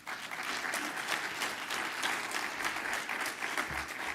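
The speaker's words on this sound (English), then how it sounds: "So please give them all a round of applause." An audience applauds at the closing of a James Baldwin program, a dense, even wash of many hands clapping that holds steady throughout without fading.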